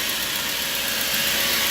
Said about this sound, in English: So that's the fan on.